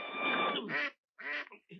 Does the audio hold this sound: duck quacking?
yes